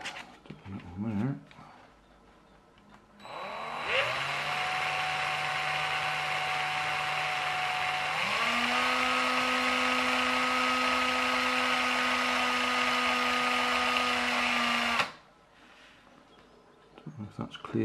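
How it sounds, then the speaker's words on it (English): A power drill spins a small pin for repairing a broken wire on a small coreless motor, giving a steady whine that starts, steps up in pitch partway and runs about twelve seconds before stopping, with brief sounds either side. "I've ended up putting that pin in my drill"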